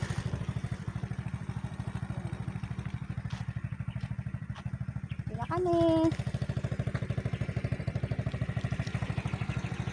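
A 110cc motorcycle engine runs in a steady, rapid low thrum while descending a mountain road, close and continuous, with a brief rise and a short chirping sound midway and a few spoken words.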